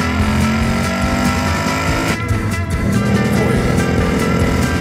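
A Ford Mustang Bullitt with a six-speed manual accelerates hard in second gear, its engine a loud, continuous roar heard from inside the car, dipping briefly mid-clip before building again.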